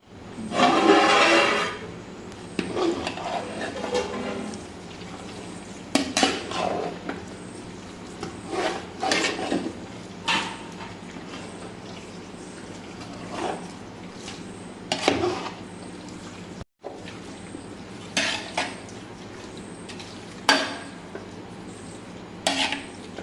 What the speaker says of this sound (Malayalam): അപ്പോൾ നമ്മൾ നമ്മുടെ കപ്പ ബിരിയാണി തുറന്ന് ഇളക്കി മിക്സ് ചെയ്യാൻ പോവാണ്